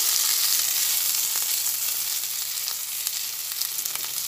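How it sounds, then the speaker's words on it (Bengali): Kashmiri chili powder stirred into oil in a pan while cooking katla fish gives a continuous close hiss of frying with faint scraping, even and steady and free of talk. "কাশ্মীরি লঙ্কার গুঁড়ো দিয়ে আবার ভালোভাবে নাড়াচাড়া করে নিচ্ছি"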